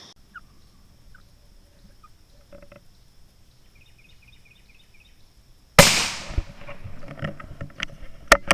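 A single sharp 17 HMR rifle shot with Hornady V-Max ammo from a Lilja varmint taper barrel on a morning squirrel hunt, a loud crack after quiet woods with faint birdsong, then a ringing tail and rustling.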